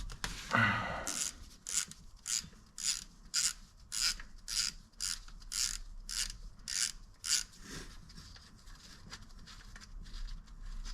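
On a Lexus IS200 engine, a bolt is undone with a ratchet, giving a steady run of about a dozen sharp, evenly paced clicks close up, after an initial clunk of the tool engaging.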